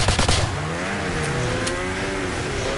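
A vehicle engine revs hard at full throttle during a Modern Warfare 2 Remastered mission on PS4 Pro, a loud sustained roar with rising and falling pitch sweeps, close and steady, with brief rattling impacts at the start.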